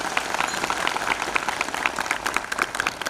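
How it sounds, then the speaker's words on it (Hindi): In a central jail in Indore during an International Day of Yoga session, a gathered audience claps with steady, moderately loud applause, many hands patting together without any talk. "तो जोरदार तालियां।"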